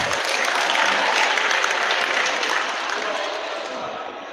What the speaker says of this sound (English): Please, can we give Yeye another round of applause?